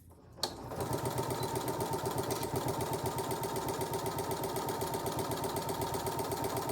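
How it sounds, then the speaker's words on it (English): A sewing machine starts up and runs steadily, stitching across a zipper pouch in a fast, even mechanical rhythm, close and uninterrupted. "just sew across"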